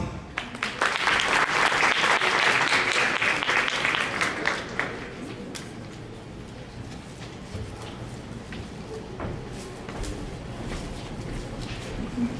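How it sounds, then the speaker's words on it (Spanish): A conference audience claps loudly to welcome the speaker Francisco Román Ortiz, a dense burst that tapers off after a few seconds into quieter room noise and a faint voice. "Recibamos ya con un fuerte aplauso a Francisco Román Ortiz."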